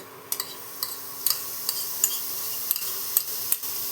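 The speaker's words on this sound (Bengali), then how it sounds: "এবার পনিরটা এর মধ্যে ভালো মতো মিশিয়ে নিতে হবে।" Grated paneer with salt and turmeric stirred in a pan on the stove: scattered light clicks of a utensil against the pan over a faint, steady sizzle.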